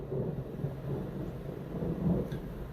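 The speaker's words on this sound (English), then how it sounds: "we've got some really good lightning and thunder" Deep, rolling thunder from storms moving in off the Adelaide Hills in South Australia, a sustained low rumble that swells and fades over a few seconds, with faint rain noise underneath.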